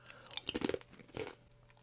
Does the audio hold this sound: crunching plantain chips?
yes